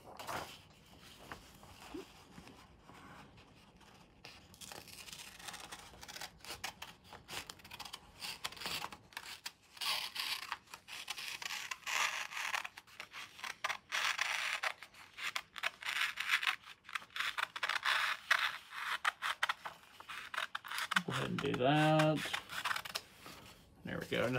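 Trimming the edge of a sublimated gaming mouse desk pad with scissors, a run of crisp snipping and scratchy cutting strokes, close and irregular, with a person talking at times.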